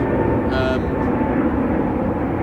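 Aeroplane passing overhead near Heathrow, heard from a fishery bank as a loud, continuous broadband roar that fills the whole short clip with no pause.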